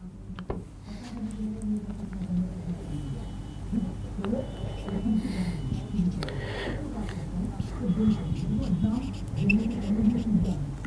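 Pen scratching across paper while writing out a formal letter closing for a descriptive exam answer, a steady scratchy texture under continuous Hindi-language speech throughout.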